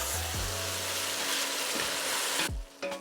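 Fresh tomatoes go into a hot pan of frying onions for a mixed bean curry and are given a quick stir. A loud, hissing sizzle holds steady for a few seconds, then drops away abruptly near the end, leaving only a faint tail.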